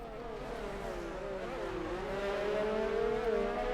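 Toro Rosso and McLaren Formula 1 cars racing through a corner at the German Grand Prix in F1 2019, overlapping high-pitched engine whines rising and shifting as they accelerate, steady and close, without talk.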